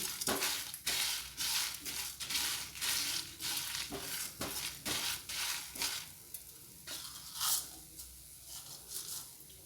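Coriander and cumin seeds dry roasting in a pan for hotel-style sambar, with a rapid rustling and crackling as they are stirred and scraped, coming in uneven bursts close up and fading somewhat toward the end.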